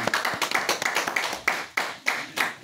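A church congregation claps together in rhythmic, sharp bursts of applause filling the room, with no one speaking.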